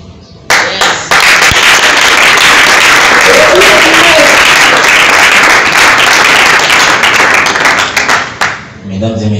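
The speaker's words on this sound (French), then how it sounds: "Je vous redemande d'applaudir frénétiquement pour M. Faustin Sougar." Loud, sustained applause fills an awards ceremony hall, with dense clapping and a few sharp cracks running for several seconds before fading out.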